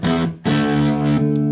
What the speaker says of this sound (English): it does sort of your traditional kind of distortion fuzz sort of sounds